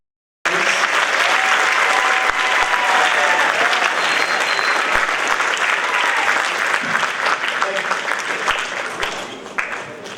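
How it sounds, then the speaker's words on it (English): Sustained loud audience applause for a middle school jazz band at a jazz festival, steady dense clapping filling the room for about ten seconds and tapering slightly at the end. "Give a round of applause."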